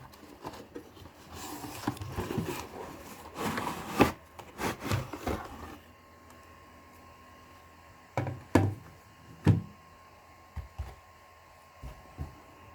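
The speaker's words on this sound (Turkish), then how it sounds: "Öncelikle kutumuzu açıyoruz" Cardboard box of a single-fan notebook cooler for 15 to 15.6 inch laptops being opened, with dense rustling, scraping and rubbing for several seconds, then scattered sharp knocks and taps, close and moderately loud with no talk.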